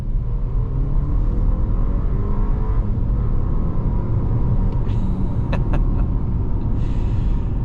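A 2025 Audi Q5 with a 2-liter turbocharged inline engine, in dynamic mode, accelerates hard from about 25 mph, a sustained low engine rumble and road roar heard from inside the cabin, with a few brief higher clicks midway.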